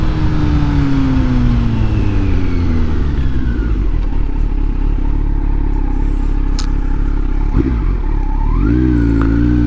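A 2020 Kawasaki Z900 with a large meter cover windscreen rides along the road. The engine drones loud and close, its pitch sliding down as it slows and then climbing again, under heavy wind rush.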